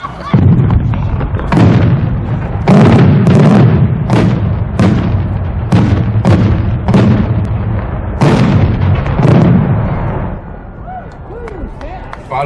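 Fireworks at a winter display fire a rapid run of sharp, loud booms and cracking bursts with short gaps between them, then tail off into quieter crackle. Voices talk faintly in the background.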